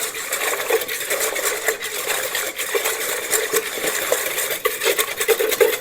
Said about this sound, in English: when I'm making the mixture with the yeast here, I like to use a whisk